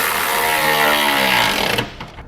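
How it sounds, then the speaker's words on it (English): A power tool with a 17mm socket runs bolts tight while an EcoHitch hidden trailer hitch is installed, a loud, close, continuous whirring buzz that rises slightly in pitch before cutting off and winding down near the end. "We'll tighten down the bolts with the large spacer using a 17mm socket."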